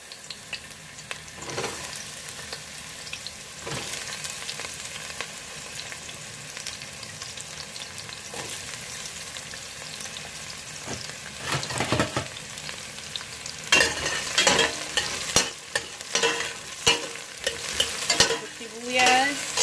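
Onion sautéing in a pan while cooking ginataang kalabasa with shrimp and green beans: a steady low sizzle with intermittent stirring scrapes, growing busier and louder toward the end, with no voices.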